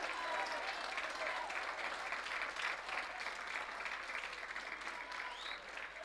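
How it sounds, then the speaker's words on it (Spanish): Stadium crowd at a local league football match between Guaraní and La Canterita applauds the Guaraní team, a steady, dense wash of distant clapping with faint commentary underneath. "estos son los aplausos para Guaraní"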